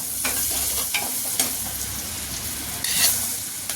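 Onions fry in a pan with chili powder and garlic-ginger chutney, a steady close sizzle with a few stirring scrapes and a brief louder hiss near the end.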